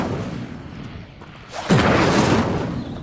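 Incendio fire spell cast in Hogwarts Legacy, a sudden loud whooshing burst of flame that swells after a quieter lead-in and holds for about a second before fading.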